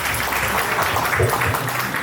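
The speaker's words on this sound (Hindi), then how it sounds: "इसके लिए तालियां बजना चाहिए।" Applause for a married couple at a 10th wedding anniversary celebration in Mumbai, a dense steady wash of clapping filling the whole moment at close range with no pauses.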